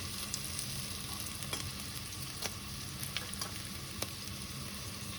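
Capsicum, onion, cumin, mustard seeds and spices sizzle steadily in an oiled pan, with a constant frying hiss and occasional light pops and stirring clinks, close and alone.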